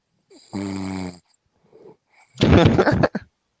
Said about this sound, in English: Who is snoring?